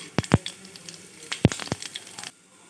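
Black mustard seeds, cumin and chopped dried chilli hitting hot mustard oil in a frying pan, a couple of sharp crackling bursts followed by a spluttering sizzle that fades out after about two seconds, close and moderately loud.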